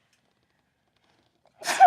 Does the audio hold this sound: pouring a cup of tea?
no